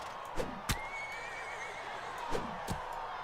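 A horse whinnies in a long wavering call over steady background hum, with a few sharp thuds and hoof-like knocks around it, in the video game Mount & Blade: Warband.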